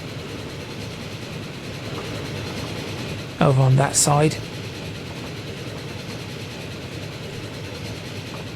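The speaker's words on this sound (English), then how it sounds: "We've got the iron train going across." An iron-ore freight train rolls past in Transport Fever 2, a steady broad rumble and rattle of rail cars running throughout, with a voice briefly speaking partway through.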